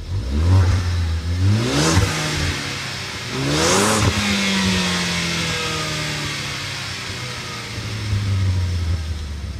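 A Ford Focus ST engine revs hard twice, rising and falling, then settles into a steady idle with a deep rumble, loud and close.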